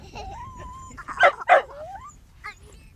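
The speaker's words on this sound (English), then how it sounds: "Playing with her dog Baxter back home in North Yorkshire" A pet dog at home in North Yorkshire gives a few short yips and barks mixed with high, rising whimpers, fairly close and clear over quiet room noise.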